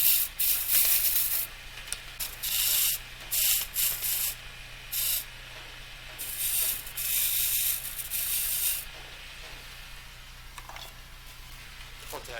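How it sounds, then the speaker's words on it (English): Sanding a small chamfer on the pad of a wooden cabriole leg by hand: repeated bursts of dry, hissing abrasive strokes in an irregular rhythm with short pauses, close and moderately loud. "What the heck, we'll sand it just a touch."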